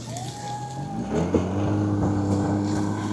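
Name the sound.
snowmobile engine running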